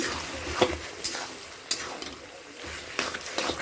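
A vegetable curry being stirred after garam masala powder goes in, with spoon scrapes and knocks against the pot every second or so over a low simmering sizzle, close by, with no talk.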